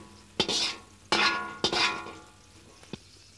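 Sweet peppers and pork stir-fried in a pan: three sharp metallic clangs of a utensil against the pan, each followed by a brief sizzling rush, then a light tap, with no talking.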